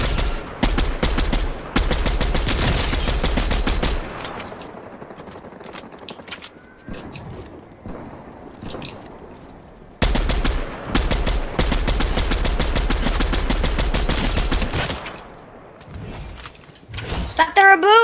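Dense bursts of automatic gunfire crackle in Fortnite, loud and close, in two long volleys with a quieter gap between them and a final short spurt, with voices speaking over the shooting.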